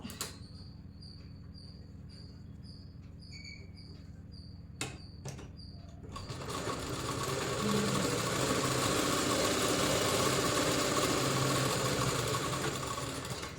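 A pedal-operated treadle sewing machine starts after a few quiet seconds with a couple of clicks. It then settles into a steady, close mechanical whir of stitching that lasts to the end.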